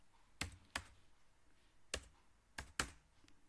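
A few separate keystrokes on a computer keyboard while a captcha is entered on an online form, sharp close clicks spaced irregularly over quiet room noise.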